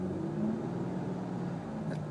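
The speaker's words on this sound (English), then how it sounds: "That beautiful engine, I just love it." A 2005 Aston Martin DB9 Volante engine drones in a steady, loud idle-to-rev rumble, continuous throughout with a faint high chirp near the end.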